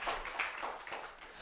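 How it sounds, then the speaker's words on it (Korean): A church youth congregation claps together in thanks at a Sunday service, a brief, dense patter of many hands heard faintly from a distance. "우리 다시 한 번 더 우리 하나님 앞에 감사의 박수 올려드리겠습니다."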